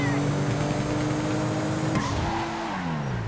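A car engine revs and tires squeal during a police chase in a video game, with a steady engine tone that drops in pitch near the end as the car loses control, under a voice speaking French.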